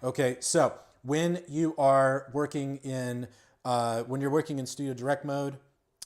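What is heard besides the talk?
No distinct noise like a dog, phone or traffic.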